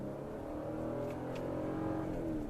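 A 2022 Toyota Tundra TRD Pro accelerates from a dead stop in manual S1 mode, its engine giving a steady, loud low drone that builds slightly in intensity over a couple of seconds, heard from inside the cab with no talking.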